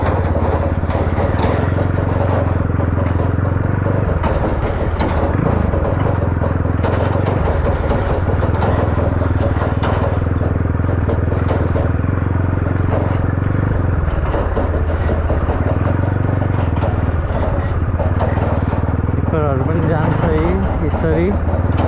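Tractors hauling gravel and sand along a riverbed produce a loud, continuous low engine drone that rumbles throughout, with a person speaking over it.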